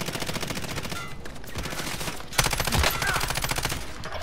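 Rapid automatic gunfire in a Call of Duty: Modern Warfare online match, dense rattling bursts continuing throughout with a louder, closer volley midway, faint voices underneath.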